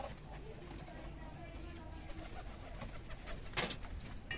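Soft cooing of a captured native pigeon, low and muffled, under faint background murmur and a steady hum; one brief sharper sound near the end.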